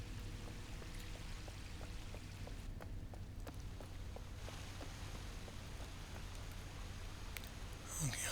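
A waterfall in the video game Uru pours as a steady, dense rush of water that holds at an even level throughout, with faint clicking layered over it.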